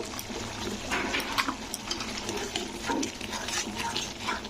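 Tomato paste being stirred in a pan while cooking matar paneer, soft wet scraping and stirring sounds with light sizzle, fairly quiet and continuous with small bursts of spoon movement, no talking.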